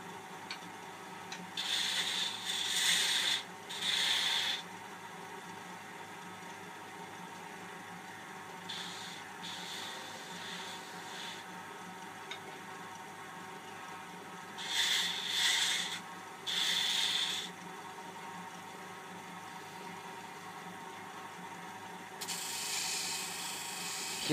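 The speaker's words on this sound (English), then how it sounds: "Using the bowl gouge or spindle gouge, I can cut down my piece to the desired shape" A bowl or spindle gouge cuts a wooden skittles game piece spinning on a wood lathe, with a close, soft scraping rasp that comes in short repeated bursts over a steady motor hum.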